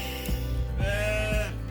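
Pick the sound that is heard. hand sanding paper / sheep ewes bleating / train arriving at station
sheep ewes bleating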